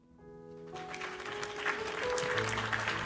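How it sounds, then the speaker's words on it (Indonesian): Applause rises gradually from quiet to a fuller level as listeners clap at the end of a chapter, mixed with sustained tonal notes that hold underneath the clapping. "Tepuk tangan dulu."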